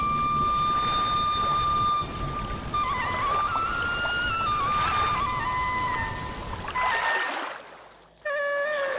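Cartoon rain falling on a flooded banana-tree food stall, a steady dense patter of raindrops with a faint tonal line running through, continuous until it cuts off near the end.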